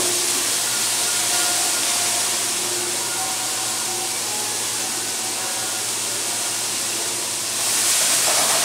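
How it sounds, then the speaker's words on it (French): Bell peppers sautéing in a frying pan for a barbecue side dish, a steady loud hiss and sizzle that holds evenly throughout and swells briefly near the end. "Je fais sauter un petit peu les poivrons. Afin de les ramollir."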